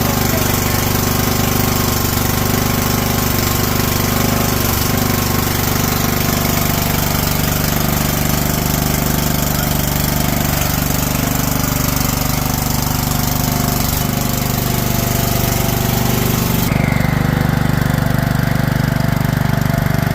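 A Wheel Horse 265 garden tractor engine runs continuously during a test drive, a loud, rough, steady mechanical drone with a slight knocking throb, close up and without talk throughout.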